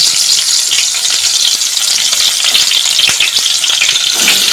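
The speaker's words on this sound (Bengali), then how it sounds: "এরকম করে আমি ভেজে নেব" Spiced egg satay skewers frying in hot oil in a frying pan, giving a dense, even crackle and sizzle heard up close with no voices.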